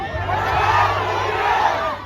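A crowd of protesters in The Hague shouts together in a loud, sustained roar, a dense mass of voices that stays steady throughout.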